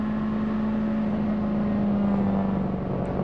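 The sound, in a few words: Nissan prototype race car engine at 1997 Le Mans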